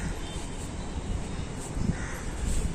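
Crows caw outdoors among neem and coconut trees, a few faint calls set against a broad background hiss of open air.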